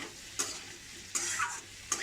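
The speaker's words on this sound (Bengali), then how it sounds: "আলু কুমড়ো সব ভাজা হয়ে গেছে, পেঁয়াজটাও আধ ভাজা হয়ে গেছে" Soft frying sizzle of potato and pumpkin with half-fried onion, with a few sharp scrapes of a spatula stirring in the pan, spaced apart, fairly quiet and close.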